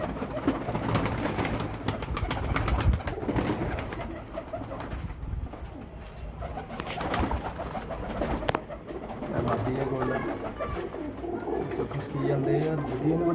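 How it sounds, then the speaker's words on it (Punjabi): A Miyan Sahib breed pigeon coos at a pigeon seller's in Faisalabad, its repeated throaty phrases clearest near the end and partly buried under someone talking close by. "ਮੀਆਂ ਸਾਹਿਬ ਵਾਲਾ ਕਬੂਤਰ ਹੈ।"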